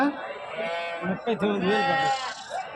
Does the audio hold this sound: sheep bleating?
yes